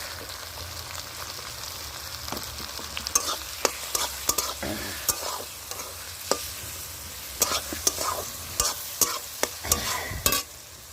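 Chicken kosha with tomato and turmeric sizzles in a pot over a clay stove, with steady frying hiss and repeated sharp scrapes and clinks of a stirring spoon against the pan, close and alone.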